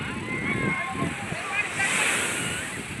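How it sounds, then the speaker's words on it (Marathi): Sea waves at Alibag beach roar and wash in a steady, loud, unbroken surge of surf, with faint voices mixed into the rushing water. "तर इथे बघू शकता लाट"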